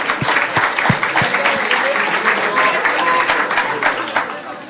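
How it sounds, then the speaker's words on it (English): An audience gives a steady, dense round of applause, many hands clapping close by at full volume throughout. "Give yourselves a round of applause."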